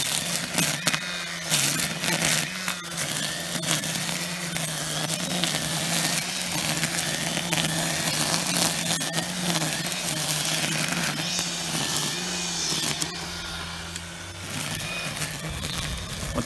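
A Milwaukee battery-powered string trimmer cuts through light brush with a continuous whirring drone and rough, crackling strikes against stems, close and steady throughout.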